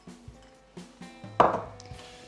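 Dates and sultanas tipped into carrot cake batter in a bowl, heard as a few soft dull thuds with one sharper clatter in the middle, close by and without talk.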